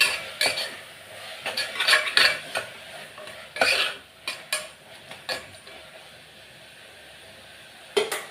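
Ginger garlic masala with mint leaves is stirred in a cooking pan for prawn biryani, giving close, irregular scraping and clinking spoon strokes against the metal with a faint sizzle underneath.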